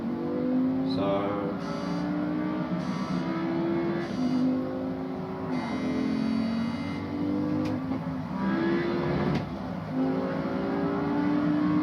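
A racing video game car engine revs through gear changes, driven with a Logitech G920 wheel and pedals; it climbs and drops in repeated bursts and holds steady loudness, with faint talk in the background.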